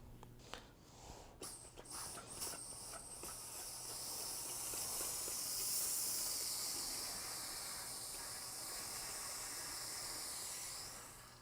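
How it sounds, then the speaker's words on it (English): A handheld steamer hisses steadily while steam-blocking a crocheted shawl. The broad, airy hiss is fairly close and builds after a few softer opening puffs, then holds at a constant level, with no talking. "I'm going to go ahead and continue steaming this piece so that way I can get it to a pretty good measurement"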